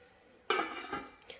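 A metal lid is set onto a pot of ginger garlic soup, giving a bright clattering clink followed by a softer settling rattle and a light tap, close and clear in a quiet kitchen.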